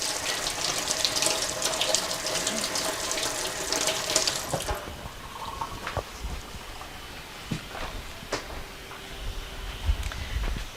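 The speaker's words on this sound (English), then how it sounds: "Rinsing my hands here." Hands are rinsed under a running tap, giving a loud, steady hiss of water for several seconds, then the flow cuts off, leaving scattered drips and small clatters.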